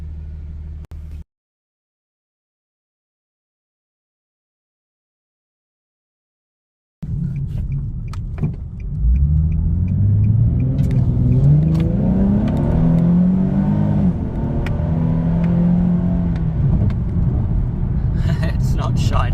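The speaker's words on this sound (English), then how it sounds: "And that was a one-handed, non-sport mode takeoff" A Nissan 370Z rated at 332 bhp, with an automatic flappy-paddle gearbox in non-sport mode and no turbo or supercharger, pulls away from a standstill. After a brief quiet spell the engine note swells and climbs loudly and close up through the revs.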